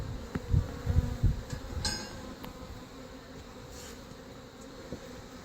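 Honey bees buzzing around an open hive during queen cell removal, a steady low drone near the listener with a few knocks of hive frames early on and no speech.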